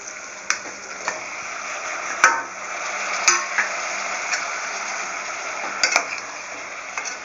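Chopped ridge gourd sautés in a pan with onion and tomato for a chutney, giving a steady soft sizzle broken by sharp, irregular clinks of a spoon stirring against the pan, close by with no talking.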